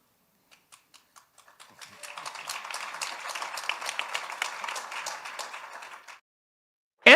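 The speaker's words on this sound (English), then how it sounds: "And the slow clap" A slow clap starts with a few sparse, evenly spaced claps, then builds into fuller group applause that stops abruptly, followed by a brief loud burst at the very end.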